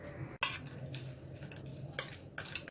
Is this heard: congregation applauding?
no